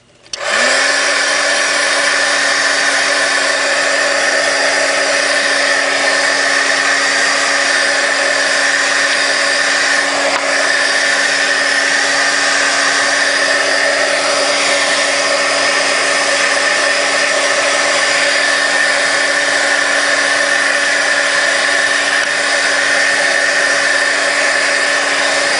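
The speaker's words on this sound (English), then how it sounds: "give it a zap with the dryer" A hair dryer blows on watercolor ink over cardstock, switching on abruptly and then holding a loud, steady whirring hum with a constant motor whine for over twenty seconds, close and uninterrupted.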